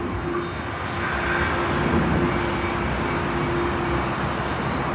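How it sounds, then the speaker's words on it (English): Aircraft on a takeoff roll at Sydney Airport, a steady broad engine roar heard from a distance, continuous and fairly loud with no speech. "So nice to get that takeoff roll."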